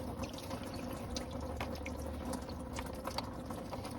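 Coolant from a leaking Mini Cooper 1.6L S Clubman drips and trickles steadily into a metal drain pan nearby, with scattered sharper drops over a constant wash of running fluid.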